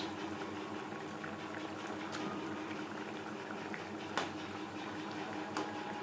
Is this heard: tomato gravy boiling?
yes